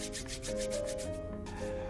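Soft, rhythmic rubbing of a light moisturizer into the face with hands, repeated swishing strokes over a faint steady musical tone.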